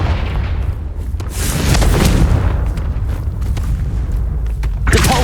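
A Confringo blasting spell goes off in Hogwarts Legacy, a loud booming fiery explosion with a deep rumbling roar that swells and lingers, followed by a second burst near the end.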